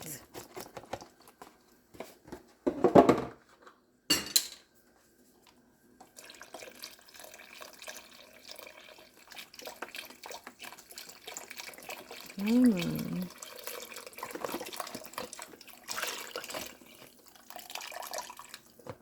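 Liquid pours and splashes into a soup pot of sausage, potato and kale soup, about 64 ounces added in one go, with bursts of pouring and a bubbling gurgle near the middle, heard fairly close in a kitchen.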